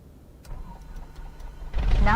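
In Microsoft Flight Simulator 2024, a small aircraft engine starts up, with faint clicks before it rumbles and swells louder near the end.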